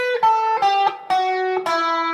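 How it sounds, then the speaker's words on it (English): Electric guitar plays an A Dorian scale on the top three strings, four clean sustained notes picked one after another, close and alone. "Now Dorian sounds like this."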